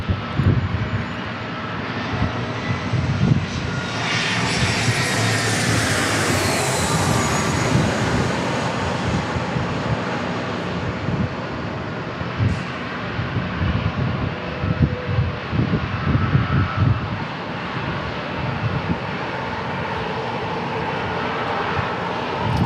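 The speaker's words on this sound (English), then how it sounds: "We've got an E-175 that's landing right now." An Embraer E-175 airliner lands at San Diego International Airport, its jet engines a broad, loud roar that swells and then holds steady as a continuous rumble, heard from the ground at some distance.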